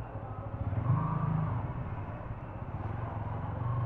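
Low, steady engine rumble of a car crawling through a mall parking area at Elpro City Square Mall while searching for a spot, close and continuous without speech.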